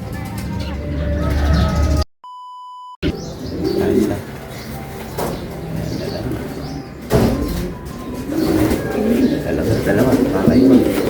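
Racing pigeons returning home coo and flutter amid steady outdoor background noise, with people talking throughout and a brief electronic beep partway.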